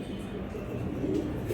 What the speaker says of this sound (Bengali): এটা অ্যালুমিনিয়াম কবুতর।